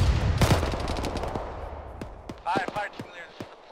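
Gunfire sounds in the ArmA military video game: a loud burst at the start, then scattered quieter shots trailing off, with radio-style voices talking over it.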